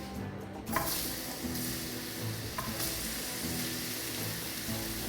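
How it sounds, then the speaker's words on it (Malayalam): Raw papaya hits hot ghee in a pan, setting off a loud, steady frying sizzle with brief stirring scrapes throughout. No one speaks. "घी अच्छा से गरम हो गया. अभी पपीता डालेंगे."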